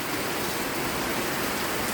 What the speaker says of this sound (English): Look at that downspout. It is pouring down.